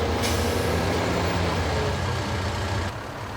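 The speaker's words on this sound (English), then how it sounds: "this is Engine 14 pulling up on scene" An LA County fire engine pulls up at a roadside car fire on a Los Angeles highway, its heavy diesel rumble loud and steady, a sharp air-brake hiss near the start, no voices.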